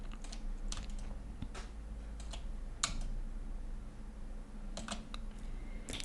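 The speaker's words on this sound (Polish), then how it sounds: "Kończymy rysowanie spline'u 3 razy wduszając przycisk Enter" Computer keyboard used while drawing splines in CAD software, including repeated Enter presses: quiet, sparse clicks and taps in irregular bursts against a low hum, close by and alone.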